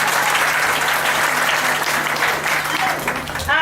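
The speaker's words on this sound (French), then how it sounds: "Il faut les applaudir très fort." Loud, steady applause from an audience at a school ceremony, cheering on elementary schoolchildren, with dense continuous clapping that fills the whole stretch and swells again at the end.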